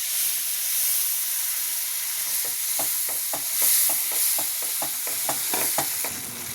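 Flour and finely chopped garlic fry in a pan with milk while a spoon stirs steadily, a continuous sizzle carrying a rapid run of scraping strokes through the second half, with no talking.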